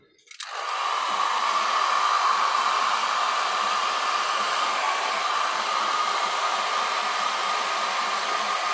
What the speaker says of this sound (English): Could you dry it with a hairdryer and then do it?